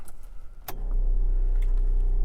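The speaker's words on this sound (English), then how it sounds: "that's the brake booster, the 12 volt brake booster coming on" A 12 volt electric brake booster in an electric-converted Subaru Brumby switches on after a sharp click, then hums as a steady, loud, low motor drone close by, with no voices.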